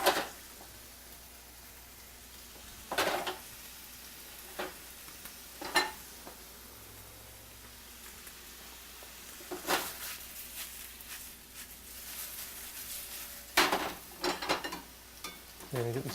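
Pad Thai noodles stir-frying in a wok: a low steady sizzle runs throughout, broken by several sharp metal spatula scrapes and clanks against the pan at irregular intervals.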